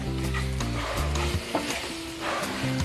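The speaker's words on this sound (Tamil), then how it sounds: "இது அப்படியே கிளறிக்கிட்டே இருந்தீங்கன்னாக்கா உருண்டை பிடிக்கிற பதம் வந்துட்டு" A thick coconut and condensed milk mixture stirred in a pan for coconut laddu, with scraping strokes and soft sizzling close by, while a low steady hum sits underneath and nobody talks.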